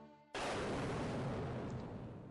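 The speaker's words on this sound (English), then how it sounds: "an explosion roared out, closer than it should have" A loud video game explosion bursts in suddenly after a brief quiet, then rumbles on as a dense, sustained roar close at hand, tailing off only slightly.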